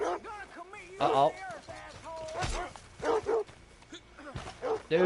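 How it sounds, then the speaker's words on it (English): Dogs in Red Dead barking and yipping while chasing, several quick bursts of barks and whimpers spread across the stretch, loud and close, with a player talking over them in places. "I got dogs on my butt."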